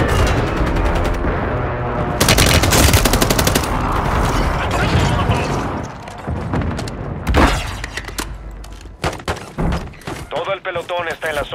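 Rapid gunfire bursts and thumping impacts in the Warzone video game, loud and dense over a steady game soundscape, with an automated voice announcing callouts between shots.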